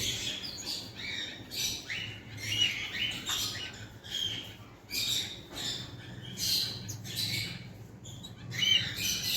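Pet birds at a hand-feeding bird farm chirp and squawk in short, sharp bursts nearby, scattered and overlapping, over a low background hum.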